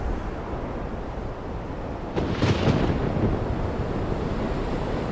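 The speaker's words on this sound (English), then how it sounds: "I still had loud storm sound playing in the background" A recorded thunderstorm plays in the background as a steady, dense hiss of rain and wind, with a low thunder rumble swelling briefly in the middle.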